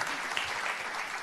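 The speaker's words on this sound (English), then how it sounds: "Big applause for grandmom." An audience at an author's book event claps warmly and loudly, a short, dense burst of applause with no pause.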